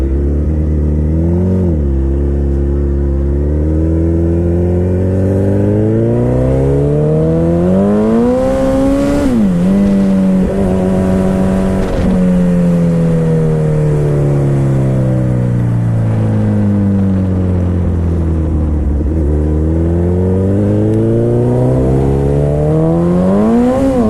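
A Suzuki Hayabusa motorcycle engine revs and accelerates up close and loud, its pitch climbing and falling repeatedly in long sweeps as the bike is pushed hard with cold tires.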